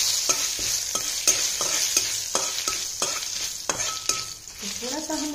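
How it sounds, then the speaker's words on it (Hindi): Dried red chillies, bay leaves and panch phoron are dry roasted in a pan, with a spoon scraping and clinking against the metal in repeated strokes over a soft sizzle. "दो या तीन सूखी लाल मिर्चें और दो से तीन तेज पत्ता। इन सबको अच्छे से हम भून लेंगे।"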